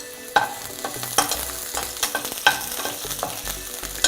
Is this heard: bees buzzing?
no